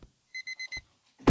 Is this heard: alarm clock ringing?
yes